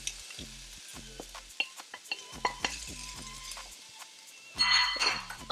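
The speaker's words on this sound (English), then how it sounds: "Next, I will add the onion." Chopped onion tumbles into a frying pan of seasoned ground beef for taco soup, bringing a brief swell of sizzle near the end after a run of close stirring scrapes and light clinks of a utensil against the pan.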